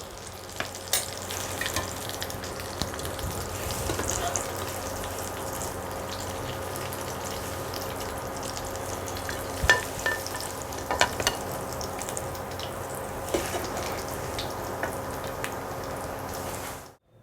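Egg chops coated with mayonnaise fry in hot oil in a wok, giving a steady, continuous sizzle with a few sharper crackles and pops and no talking.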